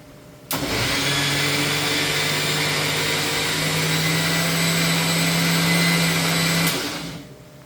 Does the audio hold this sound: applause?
no